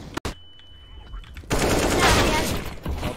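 Gunfire in a shooter video game: a sharp early shot, then a loud burst of rapid automatic fire filling the second half, close and harsh.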